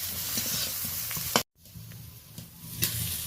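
Eggplant pieces with salt and turmeric stirred in a hot pan, a close crackling sizzle with a few scraping strokes of the spatula, briefly cut off once before resuming.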